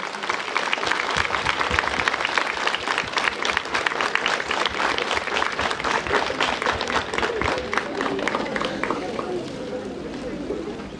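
Sustained applause from an audience at a school opening ceremony in Peștera, greeting the mayor; dense, steady clapping fills the whole stretch, loud and close, with crowd noise mixed in.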